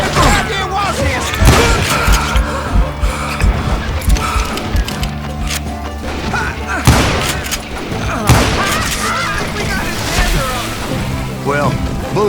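Rapid gunfire crackles throughout a Kansas shootout in Call of Juarez: Gunslinger, with repeated loud shots and booms in dense bursts, mixed with game music and shouting voices.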